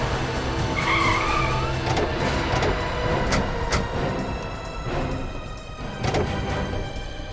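A car skidding to a halt on a road, tyres screeching in short bursts over a steady engine drone and background music, fairly loud and continuous.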